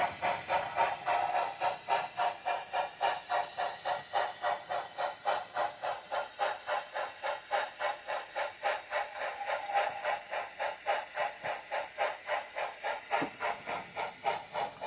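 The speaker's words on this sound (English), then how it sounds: "we are going to have to pull our train out" A model train pulls away with a steady, rhythmic chugging, soft and even, repeating several times a second without pause.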